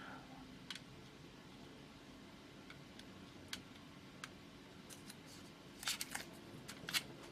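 Small sharp snips of hobby nippers cutting a part off a plastic model kit sprue, a few isolated quiet clicks spread out and then a quick cluster of louder snaps near the end.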